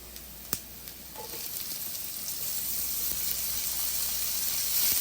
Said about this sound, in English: we're going to add our sausage to this pan.